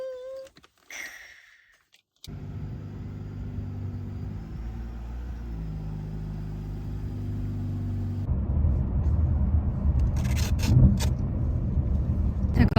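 A BMW X5 SUV cruising at high speed, heard from inside as a steady low road and engine rumble that grows louder and rougher in the second half, following a brief quiet stretch with faint sounds at the start.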